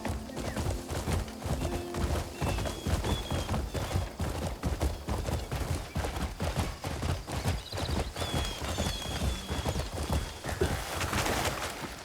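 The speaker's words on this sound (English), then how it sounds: "I'll leave my horse here." Horse hooves clip-clopping in the video game Crimson Desert, a steady rapid galloping rhythm close and loud over ambient game sound.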